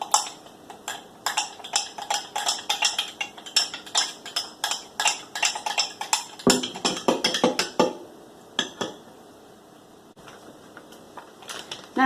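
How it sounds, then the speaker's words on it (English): A metal spoon scrapes and clinks repeatedly against a bowl while a dry ingredient is stirred in for a chicken sandwich recipe, a steady run of bright taps that pauses briefly before resuming. "You just want to mix that in."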